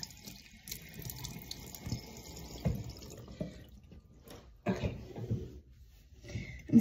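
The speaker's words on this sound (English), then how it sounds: "Go ahead and rinse this off." Tap water runs over a sink while a face is rinsed, an uneven splashing and trickling close by with a few louder bursts of water.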